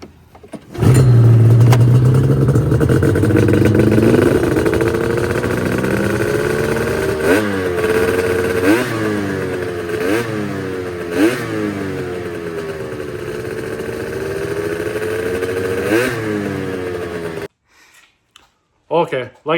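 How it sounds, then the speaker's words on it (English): A ZRT engine revs up in a garage while the machine sits on jack stands: a loud, sustained engine roar that climbs and falls through repeated throttle blips for about fifteen seconds, then cuts off abruptly. "We'll start the video off with a ZRT rev up."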